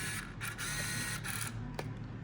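An Olympus Infinity Accura Zoom 80 compact film camera being operated, with a few close, sharp mechanical clicks and whirring over a steady background hiss.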